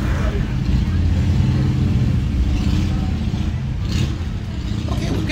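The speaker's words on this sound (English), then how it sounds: "if only I knew what those motorcycles are. I have no clue, but they're loud." Loud engine rumble of motorcycles passing in a parade, a steady roaring drone with revving swells throughout.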